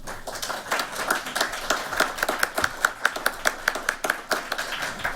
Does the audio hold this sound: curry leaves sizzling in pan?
no